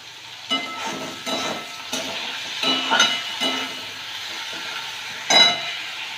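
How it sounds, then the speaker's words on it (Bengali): Bitter gourd pieces fry in oil with a soft, steady sizzle, broken by a few sharp spoon clinks and a louder scrape near the end; no one speaks. "আগে উচ্ছেগুলোকে একটু ভেজে নেব"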